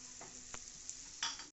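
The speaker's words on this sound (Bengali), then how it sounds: "পেঁয়াজটা মোটামুটি আমাদের ভাজা হয়েই গেছে" Onions and potatoes fry in a pan for a mutton curry, a faint steady sizzle broken by a few soft stirring taps and a louder scrape at the end.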